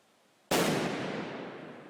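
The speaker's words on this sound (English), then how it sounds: "Finally, police resorted to throwing a grenade towards the bunker." A grenade thrown by police toward a bunker detonates in one sudden loud blast, followed by a long roaring, crackling decay that fades slowly over more than a second.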